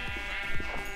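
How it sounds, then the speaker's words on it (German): Sheep in the Minecraft video game bleat twice, close and clear, in short wavering calls over a steady game background. "wir werden jetzt einfach mal hier mal die Schafe schlachten"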